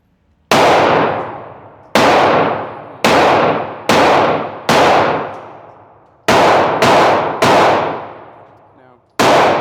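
Loud Glock 25 Gen 3 pistol shots at a shooting range, eight sharp cracks fired one at a time at uneven intervals, each followed by a short ringing decay, with no talking.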